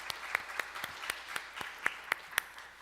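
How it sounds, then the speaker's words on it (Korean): A church congregation claps together, sharp hand claps landing in a steady, fairly even rhythm of about ten beats, moderately near and without speech over it. "하나님께 영광의 박수 돌려드립니다"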